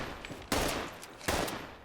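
Two sharp, loud lever-action rifle shots in Fallout 76, evenly spaced under a second apart, each with a short booming tail.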